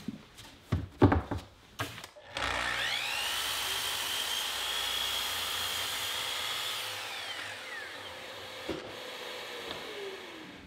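A power saw crosscuts a half-inch MDF board: a few handling knocks, then a loud, steady high whine as the blade runs through the sheet for several seconds before winding down, with a couple of thuds at the end.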